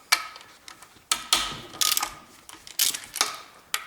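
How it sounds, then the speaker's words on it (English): A wrench ratchets as it loosens the oil pump bolts on a Ford Duratec engine, giving close, sharp clicking bursts in a steady stop-and-start rhythm. "and then my wrench, and I open these bolts."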